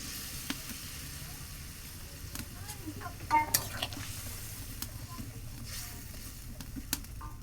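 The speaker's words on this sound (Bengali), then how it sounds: "আর ঝোলের পানিটা বেশ গরম হয়ে গেছে। কেটে রাখা ভেন্ডিগুলো দিয়ে দেবো।" Sliced okra going into hot fish curry broth in a village kitchen, a low bubbling sizzle with scattered light clinks and stirring knocks, fairly quiet throughout.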